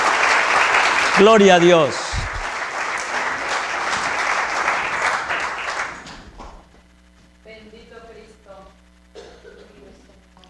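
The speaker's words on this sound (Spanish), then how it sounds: "Dele un fuerte aplauso al Señor." Church congregation applauds steadily and loudly for about six seconds while a voice calls out over it, then the clapping stops and someone speaks briefly against a low hum.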